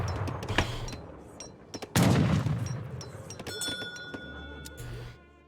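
Settlers fire guns in Age of Empires 3, with a patter of small shots followed by a loud, sharp volley near the midpoint that rings out and decays under ongoing game sounds.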